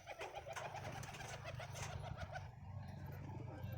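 Madras high flyer pigeons coo in low, throbbing rolls, close and continuous, with a few sharper bird calls overlapping.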